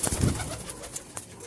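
Pigeons kept in a coop cooing, a soft low burbling call repeated a few times at close range with no talk over it.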